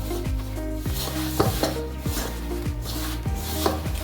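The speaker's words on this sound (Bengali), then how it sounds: "উষ্ণ গরম জল দিয়ে আমি অল্প অল্প করে এইভাবে মেখে নেব" Flour dough being kneaded by hand with warm water added little by little, giving rhythmic rubbing and squelching strokes at a steady pace over a sustained tonal music bed.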